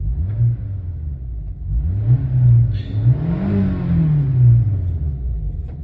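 An old car's engine running roughly, a low, uneven rumble that surges and sags as it is revved, heard close with no talk over it.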